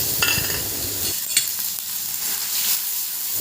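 Ginger, garlic and onion paste with bay leaf frying in a hot wok, a steady close sizzle with brief stirring scrapes, no talk.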